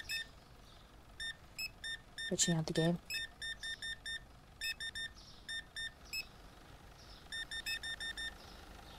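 Repeated short electronic checkout-scanner beeps from a supermarket simulation game sound in quick bursts and clusters, with a voice speaking briefly partway through.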